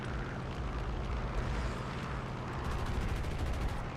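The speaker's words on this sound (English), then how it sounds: "you'll see me shooting into nowhere" P47 aircraft machine guns fire in a flight combat game, a dense continuous roar of rapid gunfire blended with engine drone, loud and steady throughout.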